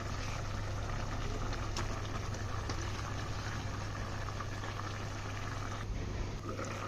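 Fish curry with water simmering in a covered pot, a continuous low bubbling hiss with a steady hum beneath, moderately quiet and unbroken, no talking.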